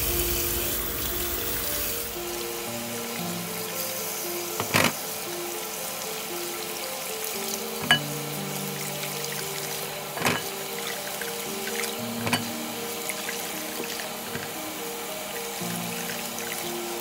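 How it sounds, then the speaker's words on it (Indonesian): Goat feet being rinsed under a running kitchen tap, a steady stream of water splashing continuously with occasional clunks and knocks, close and moderate in level, with no talking. "Kita cuci lagi dia di air mengalir sampai bersih ya"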